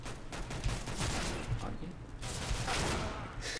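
Gunfire in the CS:GO Arms Race mode, a dense run of shots and bursts at moderate level blended into busy game ambience, with faint voices chatting underneath.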